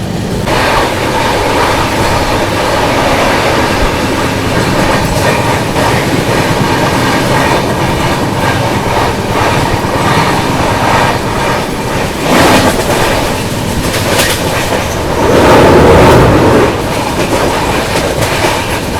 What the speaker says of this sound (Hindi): एक लोकल ऊपर से निकल रही है।